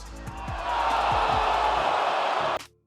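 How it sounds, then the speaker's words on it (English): A WWE wrestling arena crowd erupts into loud, dense cheering with whoops and thumping impacts, sustained for a couple of seconds before cutting off abruptly. "The crowd erupted"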